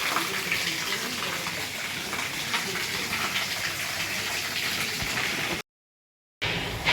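Water gushing from a borewell pipe, a steady close splashing flow that runs continuously before a short break near the end.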